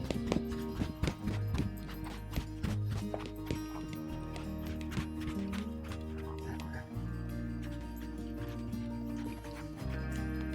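Horse hooves clip-clopping in a steady rhythm as a rider drives the horse forward through walk, trot and canter transitions, close and fairly loud, with low rumbling underneath and no talk over it.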